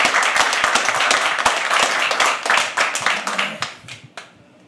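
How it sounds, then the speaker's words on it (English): Audience applause at a live poetry open mic, dense steady clapping from many hands filling the room, then thinning and fading out over the last half second. "Can we please have another round of applause for him?"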